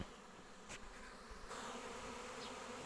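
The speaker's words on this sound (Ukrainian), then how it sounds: "бо ще ще підлітають бджілки" A swarm of honeybees flying in to settle at a hive, a dense continuous buzzing drone that is faint and steady, with no talk.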